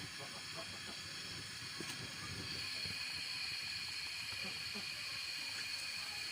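Fuchka puris frying in hot oil give off a constant, fairly faint hiss and bubbling that stays even all the way through.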